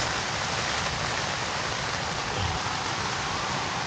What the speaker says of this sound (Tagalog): Biglang lumakas yung ulan.